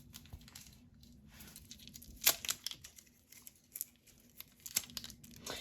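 Plastic packaging of beige Posca paint markers being torn and crinkled open, a run of close crackling rustles with a few sharper tearing bursts, no talking.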